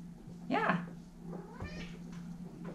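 Pet cats on a road trip meow several times, with one drawn-out, wavering call standing out above a steady low hum, followed by shorter, fainter mews.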